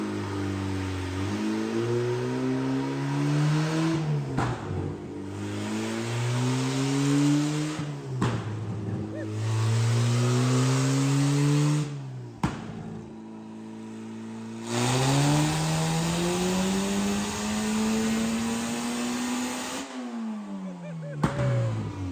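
A supercharged car engine revs hard and loud, with repeated rising sweeps of pitch and short breaks where the throttle lifts between pulls.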